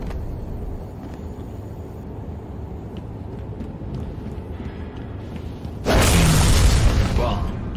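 A bomb detonates in a Halo 3 online multiplayer round: a low rumbling backdrop suddenly erupts into a loud, broad boom near the end that rolls on for about two seconds.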